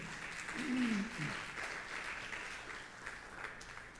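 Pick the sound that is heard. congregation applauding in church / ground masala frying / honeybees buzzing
congregation applauding in church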